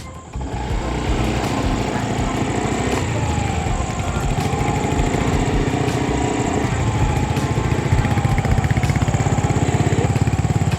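A 2023 Honda Dio BS6 scooter engine drones steadily while being ridden, a continuous buzzing hum with wind noise that stays loud and close for the whole stretch, without pauses.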